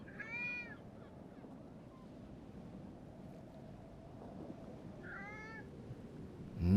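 A cat meows twice while perched on a rocking gunpowder barrel in a video game, with a short cry at the start and another about five seconds later over soft wind and water ambience.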